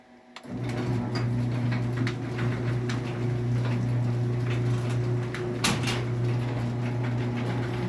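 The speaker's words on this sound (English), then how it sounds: "I will close the door now." Stanley Standard opener running a sliding pan door along its rail, giving a steady loud mechanical hum with faint rattling and a soft click partway through, heard alone.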